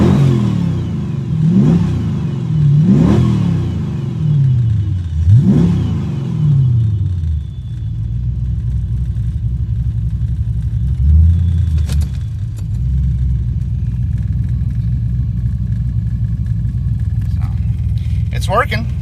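A supercharged Ford Mustang Foxbody fitted with a blow off valve revs three times in quick succession, each rise and fall distinct, then settles into a loud, close idle rumble with a few faint clicks and hisses.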